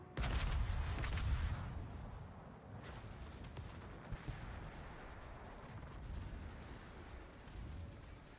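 Heavy battleship artillery fire in World of Warships, with the Bismarck shooting, booms loudly in a dense rumbling burst during the first second and a half before settling into a lower, continuous rolling rumble of distant firing.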